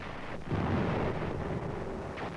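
A wartime firefight with gunfire and bombardment rumbles as a dense, low, heavy roll of distant explosions that swells after a short quieter moment and stays loud throughout.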